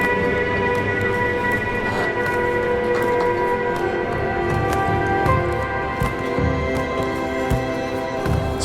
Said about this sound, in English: tomorrow morning I'm taking the train, which is right here